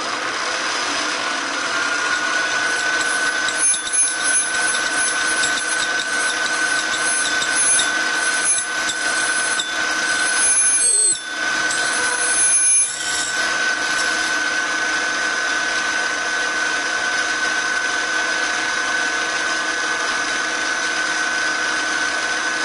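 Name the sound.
milling machine drilling holes with rotary table divider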